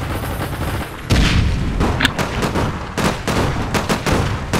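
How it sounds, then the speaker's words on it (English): Gunfire in the mobile game South Park: Phone Destroyer, a dense rattle of shots and booms running throughout, with louder bursts starting around one second and again near three seconds. "Stop shooting, everybody"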